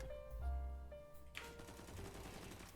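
Rapid bursts of gunfire from a first-person shooter video game, a dense crackle of shots over electronic tones and game music, loud and close with no talking.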